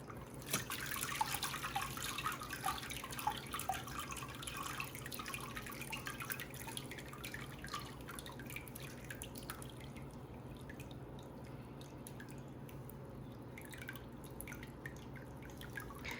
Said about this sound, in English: Just let that water drain out.